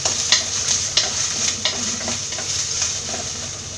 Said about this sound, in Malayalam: എണ്ണ ചൂടായി വരുമ്പോൾ ഇതിലേക്ക് അരിഞ്ഞു വെച്ചിരിക്കുന്ന ഇഞ്ചിയും വെളുത്തുള്ളി ഇട്ട് കൊടുക്കാം. ഇതൊന്ന് ഇളക്കി കൊടുക്കാം.